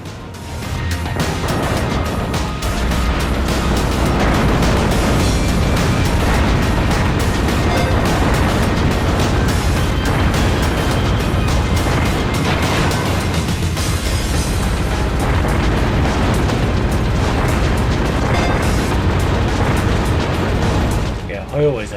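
Video game explosions as the Vulcan destroys gun turrets: a dense, continuous barrage of loud booms and crackling blasts that rumbles on without pause for about twenty seconds.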